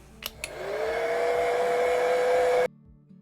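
A hair dryer dries a painting on a 12 by 12 canvas: two quick clicks, then a close, steady motor whine that runs for about two seconds before cutting off abruptly.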